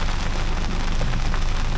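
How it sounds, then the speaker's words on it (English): Steady heavy rain and wind roar through a pre-dawn storm on Menorca, a dense, loud wash of noise with no breaks or voices across the whole stretch. "I woke up to lightning and rain and wind."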